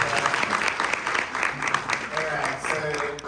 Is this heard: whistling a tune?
no